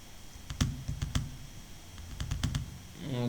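Keys clacking on a computer keyboard in quick irregular bursts of a dozen or so strokes, close and fairly quiet, with no voice over them.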